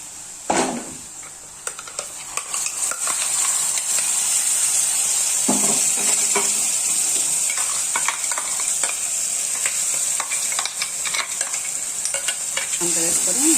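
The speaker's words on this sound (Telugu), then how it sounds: "ఇప్పుడు మనం ముందుగా మిక్సీ పట్టి పెట్టుకున్న మసాలా పేస్ట్ను దీంట్లో వేసుకోవాలి." Ground masala paste fries in hot oil in a pan for an egg and cashew curry, a constant bright sizzle with a spoon scraping and stirring in irregular strokes, close and loud.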